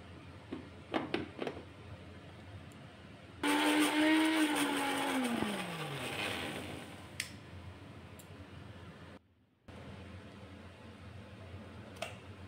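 A kitchen mixer grinder whirs loudly for a few seconds while pureeing boiled kabuli chickpeas into paste, then its motor winds down in a falling whine, followed by quiet clicks and handling noises.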